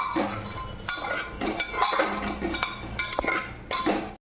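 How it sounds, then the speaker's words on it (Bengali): A spoon stirs potatoes and eggs into spices in a pressure cooker, producing repeated metallic clinks and scrapes against the pot in an irregular rhythm, close and fairly clear with no talking. "এবার আমি আলু আর ডিম একসঙ্গে দিয়ে দেবো। মশলার সঙ্গে ভালো করে মিশিয়ে নেব।"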